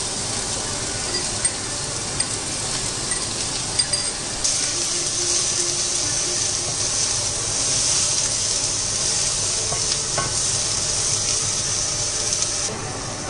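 Chopped onion and green chillies frying in hot oil as brinjal koottu is cooked, a loud steady broadband sizzle and hiss, close up and continuous with no talk.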